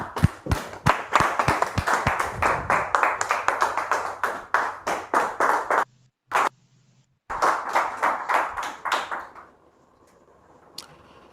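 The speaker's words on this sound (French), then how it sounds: "nous la recevons avec beaucoup de ferveur, beaucoup de joie, beaucoup d'enthousiasme par nos applaudissements" An audience claps steadily to welcome a guest onto a television set, a run of crisp hand claps that pauses briefly, resumes, and then tapers off into near silence.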